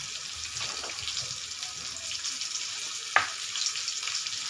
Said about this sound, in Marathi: आता हे आपल्याला अशा पद्धतीने तेलामध्ये टाकून घ्यायचे आहेत।